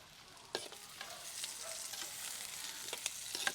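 Brinjal sautéing in a pan, a faint continuous sizzle with scattered light clicks and scrapes of a stirring spoon.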